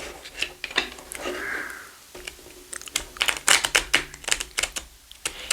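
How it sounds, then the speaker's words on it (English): Rapid flicking and riffling of stiff, brand-new tarot cards, a burst of crisp, clicking slaps in quick succession, close by with no talking. "shuffle it up a few times"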